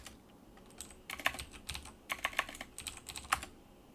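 Typing on a computer keyboard to start a Docker service, with irregular bursts of close, crisp key clicks and brief pauses between keystrokes, no talking.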